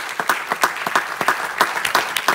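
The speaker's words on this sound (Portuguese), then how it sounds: "merecem também uma grande salva de palmas" An audience applauds after a Portuguese fado performance, a steady burst of dense, crisp hand-clapping close by with no talking over it.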